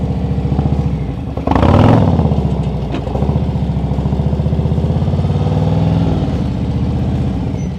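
A motorcycle idles and rolls through a slow right-hand turn manoeuvre, its engine a close, steady low chug with a brief rev and clatter near the start.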